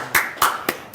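Claps in a church service, four sharp separate hand claps spaced evenly and close by, loud against a quiet room.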